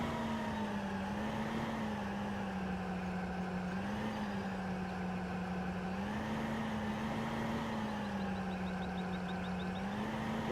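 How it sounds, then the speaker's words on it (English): Harvester engine in Farming Simulator 2015, rated at about 400 horsepower and pulling a trailer: a steady, droning diesel hum that rises and falls gently in pitch as it drives up an incline, with no voices. "I do drive the harvester itself all the way down here with the trailer on the back"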